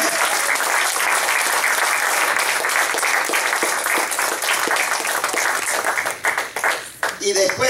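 A church congregation breaks into loud, sustained applause during a worship service, a thick wall of clapping with voices mixed in that thins out near the end.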